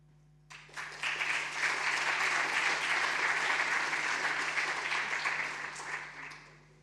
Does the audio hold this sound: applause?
yes